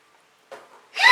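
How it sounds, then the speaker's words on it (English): A single close, loud sneeze: a short breathy intake followed by a sharp, hissing burst, in an otherwise quiet room. "I'm going to sneeze."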